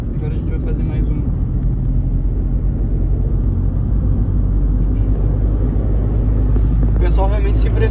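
A car on a test run comparing 15-inch and 17-inch wheels for acceleration and braking gives a steady, loud, low road and engine rumble throughout, with no distinct braking event standing out.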